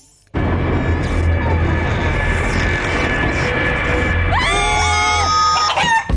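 A rooster crows from an instant noodle advert for a spicy cold chilli chicken flavour, a loud sustained crow with a rising stepped call near the end, set over constant music and background sound.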